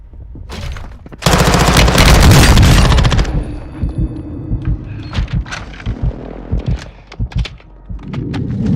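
Enemy precision airstrike in a video game: a loud, dense burst of rapid blasts lasting about two seconds, then a string of scattered heavy thuds and impacts.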